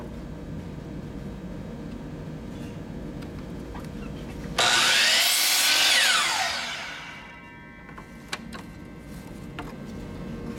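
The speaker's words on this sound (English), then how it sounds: "I'm gonna cut through on the miter saw." A miter saw cuts wooden tray sides to length, a loud whine that bursts in sharply mid-clip and fades as the blade spins down, with faint workshop clatter before and after.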